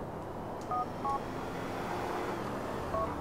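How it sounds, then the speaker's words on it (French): Several short phone keypad dialing tones in the video game GTA 4, spaced irregularly over a steady background hum of traffic and ambience, fairly faint in the mix. "Appelle Jacob en sélection l'option boulot sur son téléphone."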